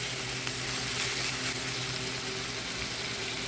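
Onion and garlic paste frying in a pan for a small fish curry, a steady soft sizzle that runs without a break at a low, even level, with no voices.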